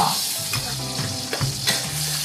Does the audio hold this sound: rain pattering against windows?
no